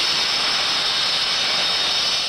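A jet aircraft roars loud and steady at the Mildenhall Air Fete in 1994, a continuous broad engine rush with no break and no voices.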